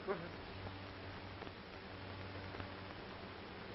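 Bees buzzing on the soundtrack of an old film: a faint, steady hum with a thin, muffled tone and a continuous background hiss.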